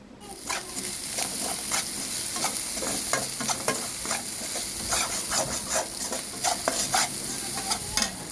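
Egg frying on a low flame in a pan for egg rice, with steady close sizzling and repeated scraping stirs of a spatula throughout, no talk.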